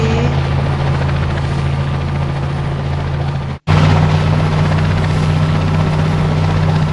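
A helicopter rotor and engine drone loudly and steadily, with a dense low-frequency throb and a broad wash above it. It cuts out for a split second near the middle and then returns slightly louder, alone and with no talk.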